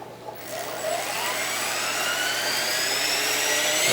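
An HK450 electric RC helicopter, a T-Rex 450 clone, spooling up: a rising high-pitched motor whine with rotor hum steadily building in loudness over a few seconds, close by and without speech.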